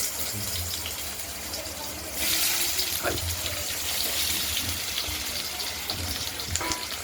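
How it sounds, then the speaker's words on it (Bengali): Cut potatoes and green bananas fry in hot oil with green chilli, bay leaf and cumin, making a continuous close hiss that grows louder partway through, with faint scrapes and knocks. "এগুলোকে আমরা ভাজা ভাজা করে নেব, আলু কাঁচকলাকে।"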